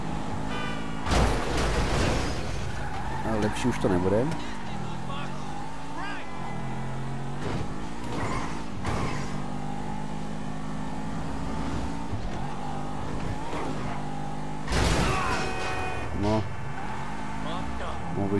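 A wrecked car in GTA V being driven off, its engine droning and revving under continuous game sounds, with someone talking over it throughout.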